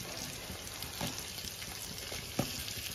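Green chilies and potato pieces fry in a pan with a quiet, steady sizzle, broken by a few soft stirring clinks and scrapes.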